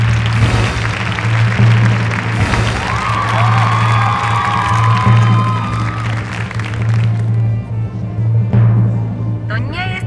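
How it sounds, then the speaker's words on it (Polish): An in-game awards-ceremony crowd in The Movies claps and cheers in a continuous wash of applause, with a voice speaking over it and a low steady hum beneath. "Wielkie brawa dla wytwórni!"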